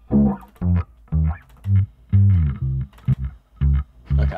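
Heavily distorted, effected instrument tone played in short phrases with a chorus-like texture, loud and alone, from a song being written with a coffee theme.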